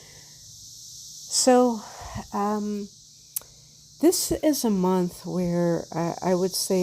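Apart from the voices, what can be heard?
cicadas rattling in the background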